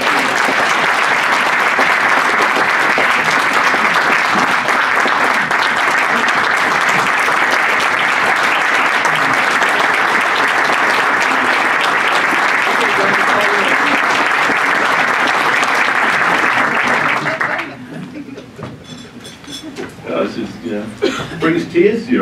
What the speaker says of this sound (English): I'd like to ask everyone to give him a round of applause